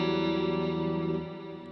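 A Jackson Matt Tuck signature electric guitar played through its front pickup with effects, a steady sustained chord ringing loud and alone before easing slightly near the end.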